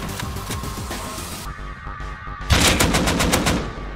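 Loud automatic AK rifle fire in the survival game Rust, with a steady machine-gun rattle that breaks off and then returns as a sharper, rapid burst of evenly spaced shots, with no talking.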